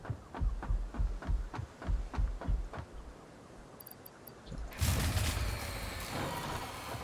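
Machines in the factory-building game Satisfactory start up: a run of regular low thumping pulses for about three seconds, a pause, then a loud broadband industrial roar and hum that keeps going.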